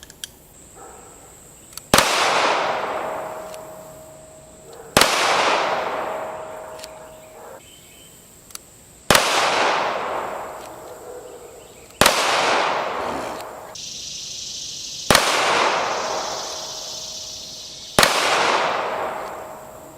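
Gunshots from a cellphone-shaped pistol, six loud, sharp cracks spaced about three seconds apart, each followed by a long ringing decay, outdoors and close, with no talking.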